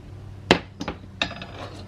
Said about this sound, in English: You just bash them with a hammer